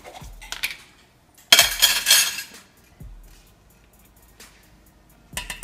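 Metal spoons clink and rattle in a home kitchen while tomato soup is being made, with a few sharp clatters and a brighter burst of jingling metal.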